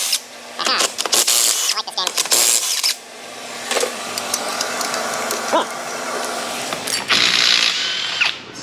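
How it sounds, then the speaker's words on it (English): A power impact gun loosening lug nuts on a rusty New York truck wheel, loud whirring and rattling bursts in close, uneven pulses with workshop clatter between them. "Impact gun cam."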